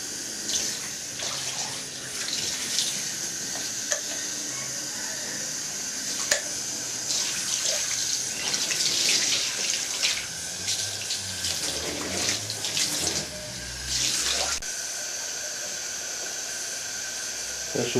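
Water from a tap pours steadily into a plasma cutting table, a continuous splashing hiss that runs for the whole stretch with only slight shifts in level.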